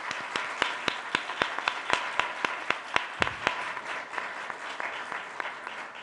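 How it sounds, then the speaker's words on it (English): Applause for the city council president candidates at a primary election forum, sparse and rhythmic with a few distinct sharp claps standing out over softer scattered clapping that thins toward the end. "Please give them a round of applause for their dedication here"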